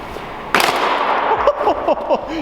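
Someone jumps on the crushed front bumper of a wrecked Hyundai Genesis Coupe, giving one sudden loud crack-like burst of plastic, followed by voices talking nearby.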